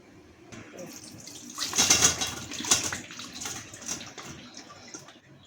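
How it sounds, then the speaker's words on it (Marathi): Water draining and splashing from raw mangoes tipped into a sieve during pickle making, with a louder gush in the middle that tapers into steady trickling. "हे पाणी आपल्याला पूर्ण काढायचं एका चाळणीमध्ये ठेवणे"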